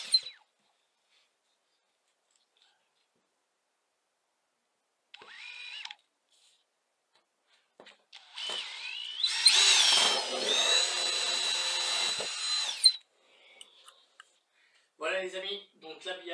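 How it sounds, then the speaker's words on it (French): Drill boring two fixing holes for a wall-hung toilet bowl on a Wirquin Chrono support frame, a sustained whine of about three seconds with shorter drill bursts before and after, separated by silence. "je procède aux 2 trous de fixation de la cuvette au bâti support"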